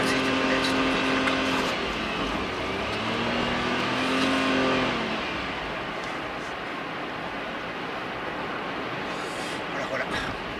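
A car drives along a road in Japan, its engine rising and passing close by over the first few seconds and then fading into steady road and traffic noise, while people talk over it.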